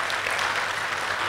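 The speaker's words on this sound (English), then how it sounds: "So you can applaud." Audience in an evening class at Om Shanti Bhawan applauding loudly and continuously, a thick, even burst of clapping with no talk over it.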